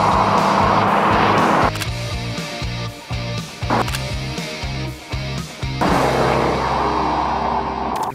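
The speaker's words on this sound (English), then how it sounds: "we're going to roll right into a rolling race here from 30 miles an hour" A 1999 Chevrolet Corvette and a 1998 Chevrolet Camaro Z28, both left in drive, accelerate hard side by side from a 30 mph roll. Loud, sustained V8 engine roar with gear changes, close by and without talk.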